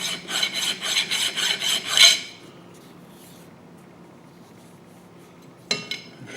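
A hand file rasps a burr off a part of an Ajax milling machine in about seven quick rhythmic strokes, close and loud, then quiet before a single sharp knock.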